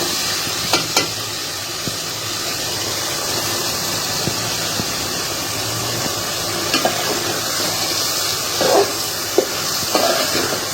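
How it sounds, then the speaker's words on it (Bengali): Pabda fish curry with potatoes sautéed and stirred in a pan, a steady close sizzle with occasional scrapes and clinks of the spoon against the metal. "ভালোভাবে নেড়ে এবার আমি কষাতে দিয়ে দিব।"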